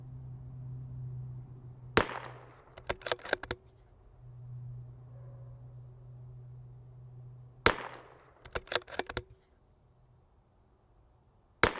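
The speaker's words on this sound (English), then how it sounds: "Well, let's shoot 5 more." A Tikka T1X .22LR rifle fires two separate bursts of sharp cracks, each a loud report followed by several quick echoing snaps, with a quiet hum between them and one more crack at the end.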